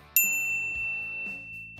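A single bright notification-bell ding sound effect strikes once and rings on with a clear, slowly fading tone.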